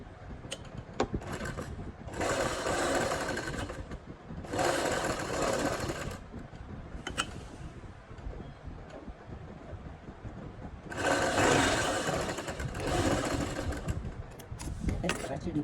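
A domestic sewing machine stitches fabric for a kachhera waistband in three bursts, near and loud, with softer handling sounds and quiet pauses in between.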